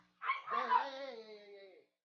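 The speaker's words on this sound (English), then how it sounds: "That's my dog, everybody." A single drawn-out dog bark that slides into a whining howl, close and fairly loud, lasting under two seconds.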